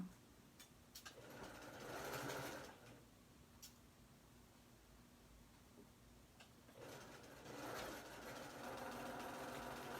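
A sewing machine stitches a T-shirt dress sleeve in two short bursts of fast whirring, separated by a quiet pause with faint clicks and handling, close but fairly soft.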